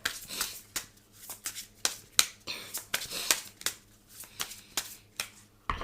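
A deck of oracle cards is shuffled by hand in short, crisp riffles and slaps, about a dozen separate bursts at an uneven rhythm, close and fairly quiet.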